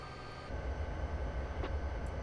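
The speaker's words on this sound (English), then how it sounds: "Hey, look, train coming down this track." Freight train number 33 at Cajon Pass rolls along the track as a steady low rumble that swells after the first half-second, with a brief metallic squeal partway through.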